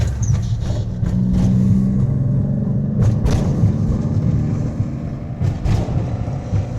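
Honda kei truck engine running while driving, a rough, steady low drone with road rumble and occasional knocks and rattles from the cab, close and loud with no talking.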